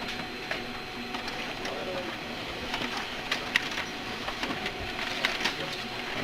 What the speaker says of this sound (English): It's starting to print off this project.